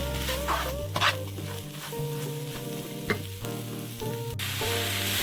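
Coconut pitha filling with milk powder and two bay leaves being stirred in a hot pan, a continuous sizzle with soft spoon scrapes running throughout, up close and without voices.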